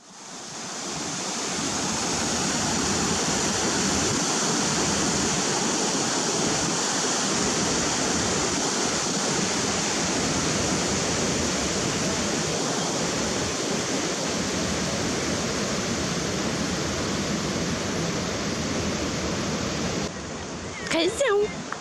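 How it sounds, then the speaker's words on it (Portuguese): Water rushes steadily over and between rocks at the Caneiro de Coja river spot, a loud continuous roar close by that holds for the whole stretch, with a brief disturbance near the end. "não dá para ver porque a água agora está a correr por cima"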